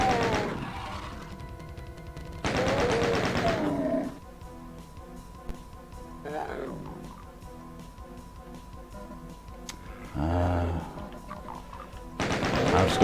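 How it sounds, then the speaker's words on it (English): Pistol shots with ricocheting bullets in a Classic Doom 1 mod on PS4, a few loud separated bursts with gaps of quieter tonal game sound between them. "I've just got Jacob's pistol that every bullet ricochets"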